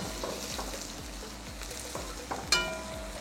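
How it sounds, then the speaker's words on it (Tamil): Sliced onions sauté in a pan for a banana fish curry, giving a soft, steady sizzle with faint rhythmic scraping from stirring and a sharp clink near the end. "200 கிராம் வெங்காயம் போட்டோம். இப்போ நல்லா மிக்ஸ் பண்ணிக்கலாம். வெங்காயம் நல்லா வதங்கணும்."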